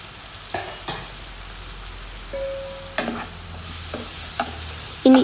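Sliced onion and green chillies sauté in oil for prawn biryani. A soft continuous sizzle runs underneath as a spatula clicks and scrapes against the pan every second or so, with a sharper clatter at the end.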